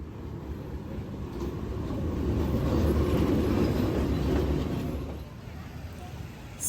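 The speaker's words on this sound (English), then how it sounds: "Don't miss the train passing in the Train Street." A train rumbles along Hanoi's narrow Train Street, its low roar swelling as it draws near, peaking mid-passage, then fading away.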